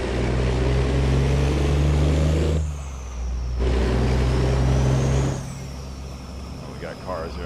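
A heavy Peterbilt rig in American Truck Simulator drones with a steady low engine rumble that dips briefly twice, as someone talks over it throughout.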